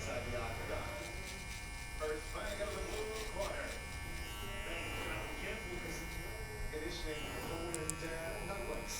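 Electric hair clippers buzz steadily through a medium skin fade, tapering from a 0.5 up through a quarter-open to a fully closed lever at the back of the head, while someone talks over the continuous hum.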